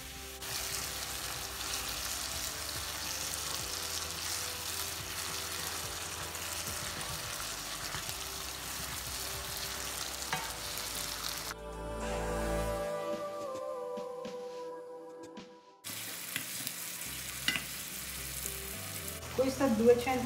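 Mushrooms frying in a little oil, a steady close sizzle running alone for most of the stretch, then briefly dropping away before the crackle resumes with a few clinks near the end.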